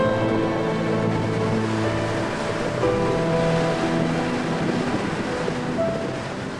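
Rough ocean waves surge steadily into a glacier-carved canyon in the Faroe Islands, a dense continuous roar of surf with a low rumbling wash and no voices.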